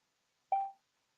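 A single short telephone dialing tone, one clean electronic beep sounding alone against near silence.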